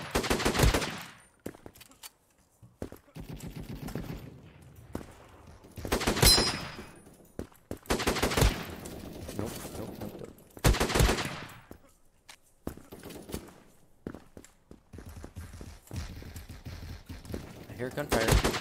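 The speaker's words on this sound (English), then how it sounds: "I hear gunfire." Bursts of rapid gunfire in the video game Krunker.io in repeated volleys, loud and close, separated by short quiet gaps, with faint talking in places.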